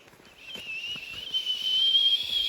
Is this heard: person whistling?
yes